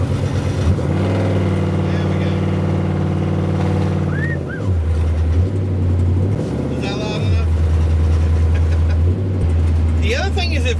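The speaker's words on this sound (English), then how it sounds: "So if you hear that revving sound that's coming out, it's that second before it decides to shift" A 1960 Chevrolet Biscayne's engine revs in long steady pulls that drop and rise again, loud and close, while someone talks over the drone.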